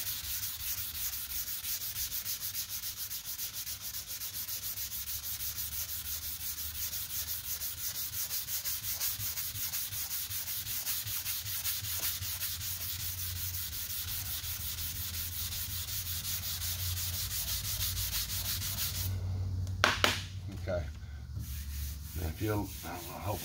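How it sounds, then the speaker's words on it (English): Wet sanding 2K primer along a car body line makes a continuous gritty back-and-forth rubbing, close and steady, before it stops near the end and a few handling knocks follow. "Sand a little more up here, and then I'll show you the difference right there."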